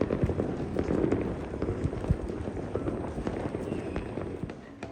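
Firecrackers crackle at a Chinese New Year street celebration, a dense, continuous patter of small pops with sharper bursts, at moderate distance and fairly quiet.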